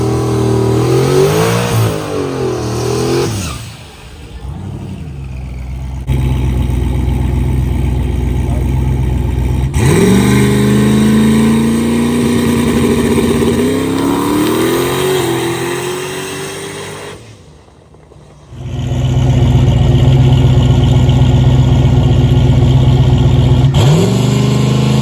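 A fast street truck's engine roars loud and close, climbing through the revs in repeated rising pulls with gear-change dips and a brief drop-off before surging again.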